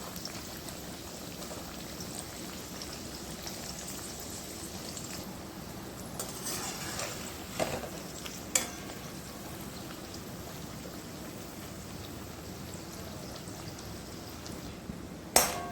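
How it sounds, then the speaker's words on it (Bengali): Potato chips frying in oil on low heat at home, a steady soft bubbling and sizzling hiss throughout, with a few light clicks as the slices are gently turned. "এরকম করে হালকা হাতে ভালো করে উল্টে পাল্টে নেড়ে নেড়ে আমি ভেজে নেব কম আঁচেতেই।"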